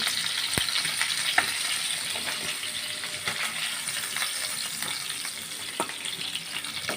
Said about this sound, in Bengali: মাছগুলো আমি উল্টিয়ে পাল্টিয়ে লাল লাল করে ভেজে নিয়েছি